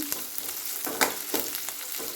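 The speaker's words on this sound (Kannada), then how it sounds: "ಇವಾಗ ಈರುಳ್ಳಿನ ಹಾಕ್ಕೊಂಡು ಚೆನ್ನಾಗಿ ಫ್ರೈ ಮಾಡ್ಕೊಳ್ತೀನಿ" Onions frying in a pan for mushroom gravy, a steady close sizzle with intermittent scraping stirs from a utensil.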